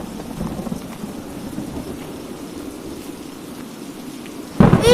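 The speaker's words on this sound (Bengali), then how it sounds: "এই ঝড় বৃষ্টিতে যদি আমাদের বাড়ি ভেঙে যায়" Cartoon thunderstorm with heavy rain drumming steadily, then a sudden loud thunder crack bursting in at the very end.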